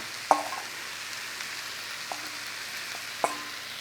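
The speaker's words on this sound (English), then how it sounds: "just a quick stir through and add your spice mix in there" Spiced new potatoes being stirred in a frying pan, a soft steady sizzle with a few sharp scrapes and clacks of the utensil against the pan, quiet and close, with no talking.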